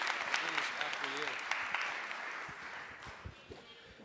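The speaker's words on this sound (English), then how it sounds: "Round of applause." Audience clapping at a live podcast show on stage, a dense burst of applause that gradually fades, with people talking over it.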